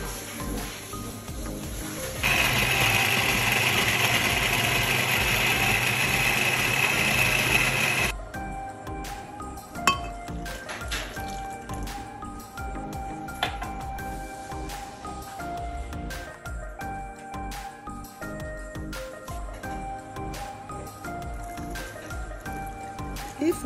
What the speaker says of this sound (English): Put it in a big blender, add water